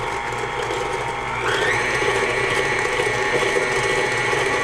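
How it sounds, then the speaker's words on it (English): A motorized kitchen mixer whirs steadily, its mechanical whine stepping up in pitch partway through as it speeds up, running continuously without talk. "anytime you add ingredients on a mixer, start it on slow, never fast"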